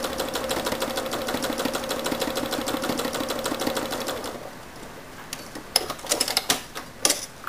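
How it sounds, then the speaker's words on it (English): A sewing machine stitching metallic thread on a quilted butterfly runs in a fast, even rapid clatter for about four seconds, then stops, followed by a few sharp clicks and taps nearby. "I've added a metallic thread, and I'm just going to stitch in the lines along the bottom wing"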